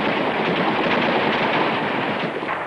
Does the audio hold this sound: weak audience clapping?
no